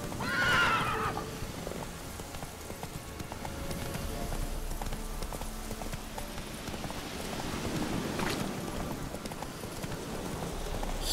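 A horse whinnies loudly at the start, then hooves clop steadily at a riding pace through the rest of the scene in The Witcher 3, with a soft ambient wash underneath.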